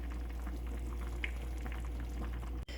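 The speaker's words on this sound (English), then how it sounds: "So I'm going to leave it to simmer down," Chicken soup simmering in a pot, a low steady bubbling hiss with a constant hum underneath and a brief dropout near the end.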